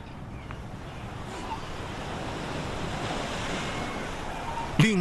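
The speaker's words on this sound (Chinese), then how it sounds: "海浪终于平静下去" Ocean surf breaks steadily on a South African shore where gannets breed, a continuous loud wash of waves and wind noise with no clear pauses.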